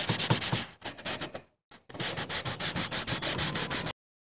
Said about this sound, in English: Start off with a little 320 grit sanding block.